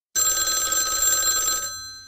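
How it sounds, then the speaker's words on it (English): A telephone bell rings loudly and continuously for about a second and a half, then its ring fades out; it comes from a children's television scene with Elmo from Sesame Street. "Yay! Another phone call!"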